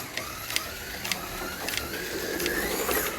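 A Fly Porsche slot car, the 1976 Trans Am champion, laps a track at 12 volts with a steady mechanical whir, its pitch rising and falling regularly as it circuits near and away, with small clicks along the way.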